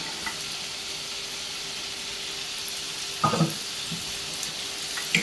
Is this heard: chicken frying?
yes